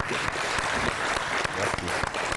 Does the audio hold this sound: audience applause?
yes